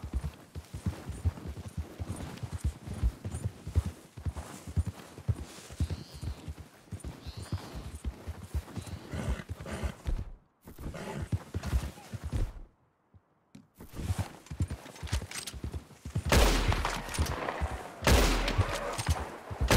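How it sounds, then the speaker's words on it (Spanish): Horse hooves gallop in a fast, steady clip-clop while repeated gunshots crack over them in Red Dead Redemption 2, with a short lull partway through before dense firing and galloping resume loudly. "Qué mal se me da disparar desde el caballo, tú."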